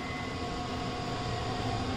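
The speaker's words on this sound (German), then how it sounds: "Die S-Bahn fährt natürlich vor uns ab." Continuous low rumbling of an S-Bahn commuter train pulling away in Train Simulator Classic, a steady broadband rail roar with faint tonal hum, fairly close and alone without talk.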